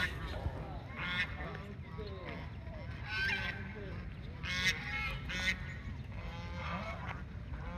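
Many domestic geese at Guthia mosque honking in scattered bursts, some close and loud, others further off, over a steady low background hum.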